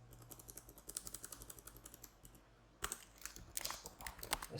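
Computer keyboard typing while entering an Angular component template, with rapid irregular keystrokes close to the microphone, a brief pause, then a denser, louder burst of typing.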